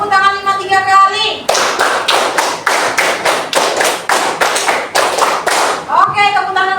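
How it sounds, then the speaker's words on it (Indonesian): Hand clapping in a classroom: a group claps together in a steady, evenly spaced rhythm for several seconds, loud and close, with voices chanting before and after. "tepuk tangan 5 3 kali"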